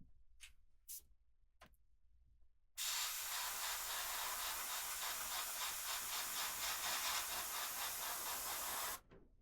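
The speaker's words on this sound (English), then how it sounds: "So when we go over it with the airbrush" An airbrush sprays paint over a marble base in one sustained, steady hiss lasting about six seconds, preceded by a few short bursts and faint handling sounds.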